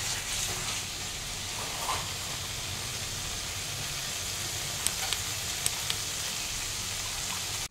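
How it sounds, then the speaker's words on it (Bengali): Hot water added to a jackfruit and potato curry sets off a steady loud sizzle and hiss, continuous and close, with a few tiny crackles near the end. "আমি এবার একটু জলটা অ্যাড করে দিচ্ছি। গরম জল আমি অ্যাড করে দিলাম।"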